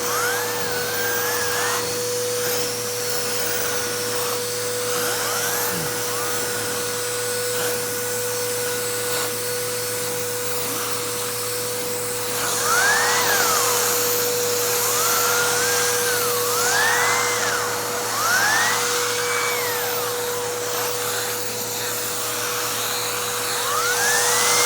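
A Bissell Cleanview 2492 upright vacuum runs its Pet Hair Turbo Tool, giving a steady loud motor whine with a constant tone and rising, warbling sweeps as the tool works a surface, with no talking.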